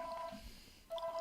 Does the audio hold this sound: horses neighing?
no